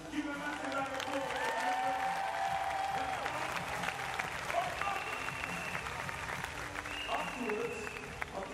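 An arena audience applauds at a Paralympic wheelchair basketball game, a broad continuous clapping crowd heard under overlapping voices and tonal sounds that persist through the whole stretch.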